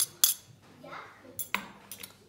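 Chicken fillet with cheese being stirred in a dish brings a scattering of sharp utensil clinks and scrapes against the bowl, with someone talking quietly between the strikes.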